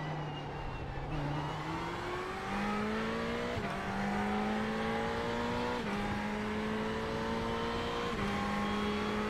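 A Ferrari race car engine howls through gear changes at Spa in the iRacing sim, the pitch climbing steadily then dropping at each upshift, loud and continuous with no talk.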